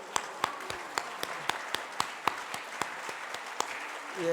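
A church congregation at a Korean thanksgiving service claps steadily, distinct sharp claps standing out over a sustained bed of applause for a few seconds.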